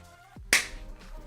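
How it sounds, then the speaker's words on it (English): A single sharp hand clap right next to the microphone, loud and sudden after a brief lull, with a faint voice murmuring before it. "I didn't think to like mute myself before I clapped next to the mic"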